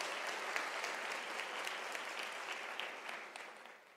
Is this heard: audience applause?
yes